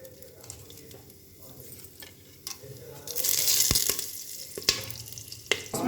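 Whole spices frying in hot oil inside a pressure cooker for a fatty mutton curry, a steady close sizzle that swells to a louder crackling burst midway, with a few sharp clinks of a spoon against the pot.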